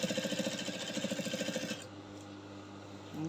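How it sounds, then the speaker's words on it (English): A sewing machine top stitching fabric along the back neckline of a bubu dress runs in a fast, steady mechanical chatter for almost two seconds, then stops, leaving a low hum and quiet room noise. "I'll keep top stitching."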